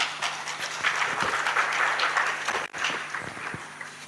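A conference audience at a UN ITU forum on cities and the metaverse in Tanzania claps as a session adjourns: a dense, steady patter of many hands filling the whole stretch, with a brief dip near the middle.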